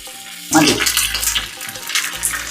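Mustard seeds and curry leaves hit hot oil for a sambar tempering, bursting into a sudden loud hissing sizzle that keeps crackling and spluttering close by, with a brief murmur of voice underneath.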